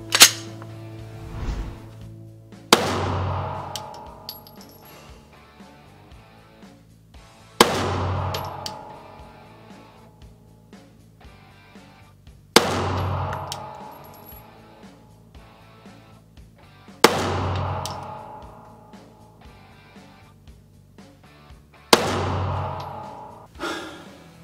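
Glock 17 pistol with a 7.5 pound trigger fires five sharp, loud single shots spaced about five seconds apart, each ringing briefly before quiet returns.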